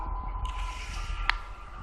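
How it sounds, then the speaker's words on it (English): A 3D printer starts up with quiet mechanical whirring, a faint steady hum, and a single sharp creak or click partway through, heard up close without talk. "Let's just get the printer going for now."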